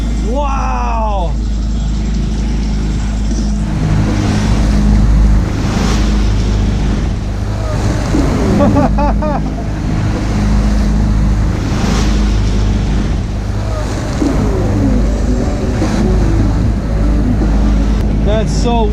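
Waves and swells slap against a sailboat on the Mississippi River, with a steady low motor drone, wind buffeting and intermittent splashing, and voices speaking over it.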